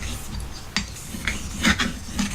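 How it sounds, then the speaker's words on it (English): A Gold Dollar 66 straight razor is drawn across a wet sharpening stone with slurry, giving a continuous gritty rasp with a few sharper strokes rising out of the steady scraping. "lubricating the stone and helping the razor get sharpened faster"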